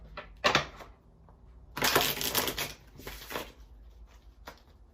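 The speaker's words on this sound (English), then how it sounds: "Yeah, I'm gonna give these a bit of a shuffle." Tarot cards are shuffled by hand in quiet indoor surroundings, giving two bursts of crisp riffling and flapping separated by softer handling sounds, with faint clicks around them.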